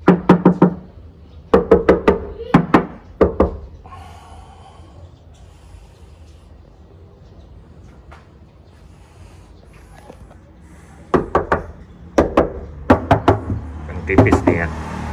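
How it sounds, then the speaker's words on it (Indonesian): Knuckles rap repeatedly on the bare, undamped body panel of a 2021 Jeep Rubicon, sharp hollow knocks in quick clusters at the start and end, with a quiet stretch in between. "kalau kita ketok seperti ini guys."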